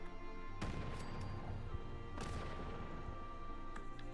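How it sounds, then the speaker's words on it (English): Frag grenade explosions in the video game Fallout 76: two loud broadband blasts a second and a half apart, each with a rumbling tail, over steady game ambience. "Let's just throw a few frag grenades."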